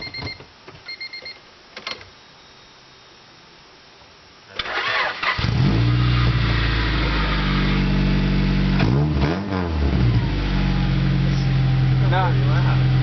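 A Honda car fitted with a glass pack exhaust starts up after a quiet stretch, then idles loudly and revs in several rising and falling bursts, with brief talk heard beforehand.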